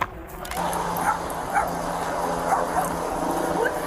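A dog yips and whimpers in short repeated bursts outdoors near woods, fairly close and steady, over a constant background hum.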